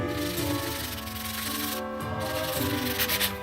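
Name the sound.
scrubbing old wrench with Scotch-Brite pad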